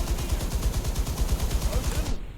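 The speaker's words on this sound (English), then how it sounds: "if I just hit space, it fires all my torpedoes" A warship's torpedoes launch in War Thunder's naval mode: a rapid, steady run of loud thumping bursts, one after another, for about two seconds before cutting off abruptly.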